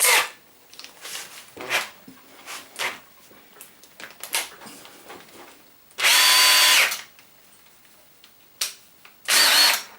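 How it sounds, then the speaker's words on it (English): An electric drill spinning to straighten wire whirs in two loud bursts, each about a second long, between quieter handling clicks and rustles nearby. "a little trick that you can do using an electric drill"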